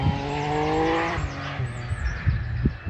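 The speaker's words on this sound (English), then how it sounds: "Less pretty as the noise from a motorbike." A motorbike passing near a seaside garden on a breezy day, its engine note rising and falling as it goes by, loud at first and then fading, with faint thumps and rustles afterward.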